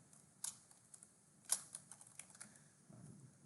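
Computer keyboard typing, quick irregular key clicks with a couple of louder strikes, close and alone with no talking.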